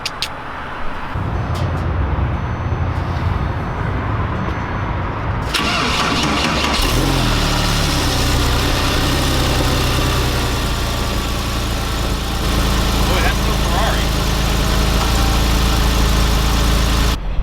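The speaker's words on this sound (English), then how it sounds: "cold start, 2008 997 Porsche." A 2008 Porsche 997 on a cold start: a few seconds of starter cranking, then the engine catches with a loud burst and holds a steady, elevated, close-up fast idle to the end, with no talking.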